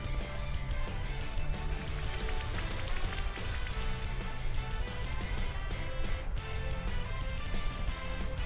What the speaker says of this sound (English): Get the rain back up